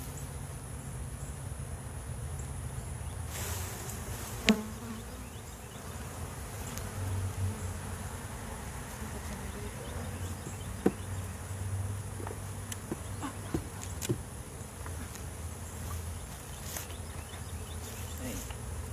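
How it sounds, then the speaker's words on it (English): Honey bees buzzing around an open hive, a steady close drone with a few sharp knocks and clicks from handling, while faint voices come through in the background. "I need you to brush those bees into there for me"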